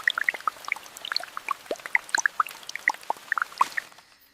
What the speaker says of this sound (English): Water falls from the branches above,